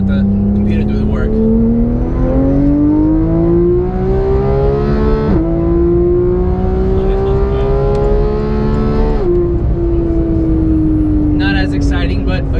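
Porsche GT3 engine running through its automatic PDK gearbox, a loud sustained drone that climbs in pitch, drops sharply at two gear shifts and climbs again, heard from inside the car.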